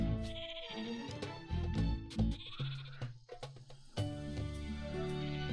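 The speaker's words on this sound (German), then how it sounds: "Ich höre eine Ziege." A goat bleats repeatedly in the Phoenotopia Awakening video game, its wavering cries sounding clearly over background game music.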